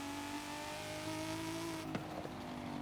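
A Honda fitted with a transplanted Acura NSX engine drives along steadily, its engine note holding a sustained harmonic drone with a brief sharp knock partway through, no voices over it.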